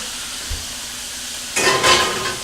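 A pan of flank steak goes into a 450-degree oven: a quiet moment, then a sudden loud burst of hissing sizzle and clatter that carries through the second half.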